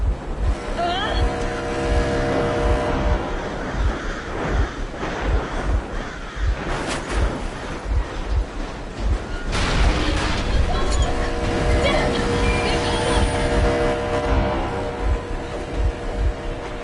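A vehicle engine running steadily in the Metro video game, a loud continuous rumbling drone with rhythmic low thuds, with speech and other game sounds over it.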